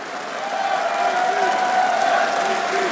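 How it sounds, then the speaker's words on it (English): Esports arena crowd at a Counter-Strike semifinal in Katowice, a steady wash of cheering voices with a sustained chant-like tone running through it, loud and continuous for a few seconds. "That's a chant right there."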